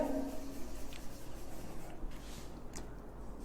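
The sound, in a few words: writing an enzyme name on a board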